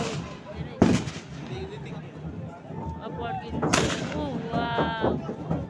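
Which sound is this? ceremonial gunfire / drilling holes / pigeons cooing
ceremonial gunfire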